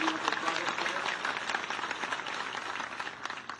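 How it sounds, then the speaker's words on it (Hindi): An audience at a Krishna Yadav (Ahir) community talent-felicitation ceremony in Budhni, Sehore, claps in sustained, even applause for several seconds, moderately distant and filling the hall. "उनका जोरदार तालियों से स्वागत करें"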